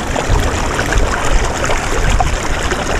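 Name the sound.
water gushing from a pipe on a farm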